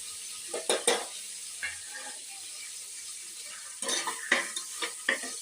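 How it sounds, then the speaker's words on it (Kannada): Spices frying in a pan for egg biryani being stirred, soft sizzling under scattered scrapes and clinks of a spoon against the pan, quiet and close with no voices. "ಹಸಿ ವಾಸನೆ ಹೋಗೋವರೆಗೂ ಕೈ ಆಡ್ತಾ ಇರಬೇಕು"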